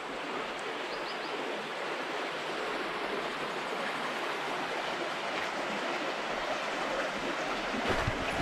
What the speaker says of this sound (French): écoutez ce bruit là de la petite cascade là.